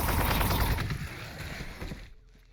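Battlefield gunfire from the Warhammer 40,000: Gladius strategy game, a dense rattling burst of shots that runs loud for about two seconds and then cuts off abruptly.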